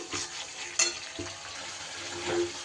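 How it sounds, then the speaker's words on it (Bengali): Spice paste sautéing in hot oil in a pan, a steady close sizzle with soft stirring scrapes and one sharp clink of a spoon against the pan. "কষিয়ে নেব নিরামিষ মশলা খুব বেশি সময় কিন্তু কষতে আমাদের সময় লাগে না"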